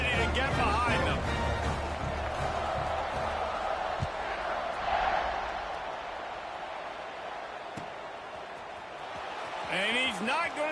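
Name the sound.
football stadium crowd cheering before kickoff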